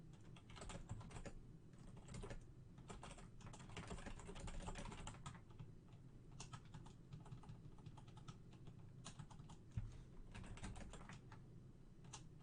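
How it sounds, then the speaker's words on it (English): Quiet, continuous clicking of keys on a computer keyboard, fast uneven bursts of typing with brief pauses, close and soft. "I know everyone's hearing this right now. Typing ASMR."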